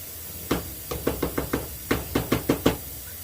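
Thick lentil bolognese sauce at a boil in a pot, heard as a string of about a dozen soft, knocking plops in an uneven rhythm, close by over a low background hiss.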